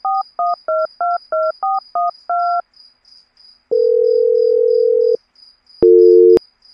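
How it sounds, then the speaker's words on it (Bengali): A telephone gives a quick series of touch-tone dialing beeps, then a long steady ring tone and a shorter final tone, all loud and close, with a faint high insect chirp behind. "তবে ফোন বেজে যেতে থাকলো।"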